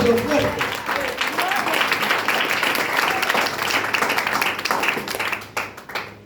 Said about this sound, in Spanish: Denle un aplauso, pero déselo fuerte.